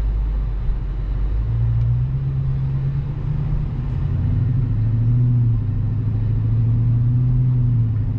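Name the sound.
vehicle exhaust rumbling while driving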